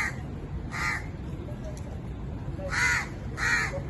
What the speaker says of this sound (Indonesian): di atas pohon itu ada burung, nggak tahu ini burung gagak ya teman-teman kalau nggak salah ya